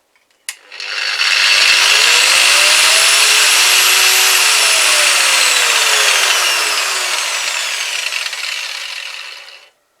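An angle grinder with a wire brush scrubs rust from an old saw in one loud, continuous, harsh whirring rasp that holds steady for several seconds, then cuts off abruptly.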